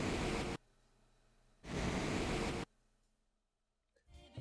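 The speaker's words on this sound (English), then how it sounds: "To make the vacuum sound, I found a heater vent that provided me with just enough airy noise" Designed vacuum whoosh for Hunter's Golden Gun built from heater vent air noise: two loud, roughly one-second bursts of broad airy hiss separated by a quiet gap, then a faint rustle near the end.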